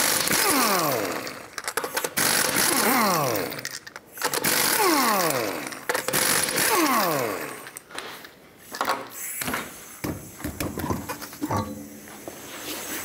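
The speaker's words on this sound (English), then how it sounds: "Use a 19 millimeter socket, take off all 5 of your lug nuts and remove the wheel" Lug nuts spun off a wheel with a 19 mm socket on a power tool, repeated buzzing whirs in rising and falling bursts, loud and close, with pauses and clanks between nuts.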